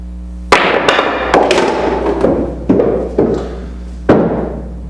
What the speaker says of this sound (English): a nice little pop is all you really need to get the cue ball airborne